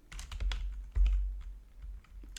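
Keys on an odd-feeling computer keyboard clatter in a quick, irregular burst of close clicks and taps, with no one speaking.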